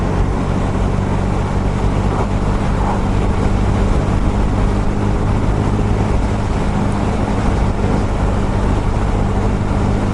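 A KTM 390 Super Duke motorcycle engine hums steadily while riding, a continuous loud drone mixed with heavy wind rush across the whole stretch, with no talking.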